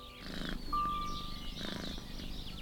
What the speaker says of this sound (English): Here is your cat, Sanjay.